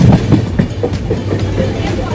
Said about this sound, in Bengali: আমরা এখন দেউলটি স্টেশন পার করছি